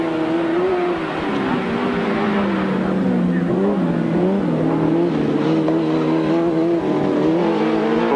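Sidecar outfits race flat out at a 1993 grasstrack meeting at Stone in Oxney, a continuous loud engine drone with wavering pitch as the machines power round together, a commentator's voice faintly over it.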